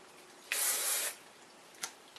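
Hairspray sprayed onto lifted layers of curled hair, one loud half-second hissing burst up close, followed by a short faint puff and a tiny tail, with no talk.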